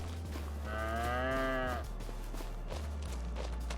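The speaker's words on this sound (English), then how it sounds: "Yeah, just chewing your cud. You're a happy cow." A single close cow moo, drawn out for about a second, from cattle in the Farming Simulator 25 video game, over a quiet low hum without speech.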